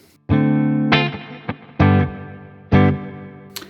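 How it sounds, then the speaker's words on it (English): Electric guitar through a REVV Dynamis pedal with reverb at decay setting 2, four loud strummed chords each ringing into a lengthening reverb tail, with a brief pick scrape between them and no talking. "More reverb, aka decay setting number 2."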